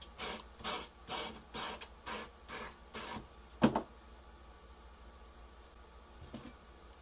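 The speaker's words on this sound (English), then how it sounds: "So you want to file first and then sand." Rhythmic rasping strokes of a metal file across copper edges, deburring a handmade Japanese-style fish hook key chain, about six steady back-and-forth passes close up, then a sharp knock and quiet.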